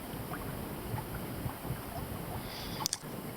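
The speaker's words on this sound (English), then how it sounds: "With this light wind, that means motor is on" A sailboat motoring on Lake Keitele in Finland in light wind gives a steady low drone under a wash of wind and water noise. A short knock sounds near the end.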